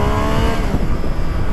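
A Triumph Street Triple S 660 motorcycle accelerates hard from about 50 km/h, a loud, continuous engine roar with wind rush close to the rider.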